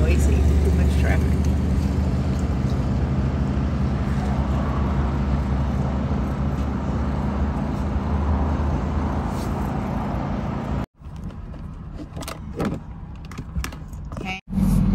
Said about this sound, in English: Too noisy. Too much traffic.